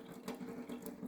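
Pasta water poured out of a pot into a kitchen sink while making mac and cheese, a steady close rush of running water with slight surges, heard alone without talk.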